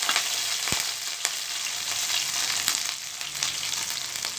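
Mustard seeds and cumin fry in hot oil for a taro-root dal tempering, giving a soft steady sizzle with a few sharp pops and clicks, close and fairly quiet, with no voices.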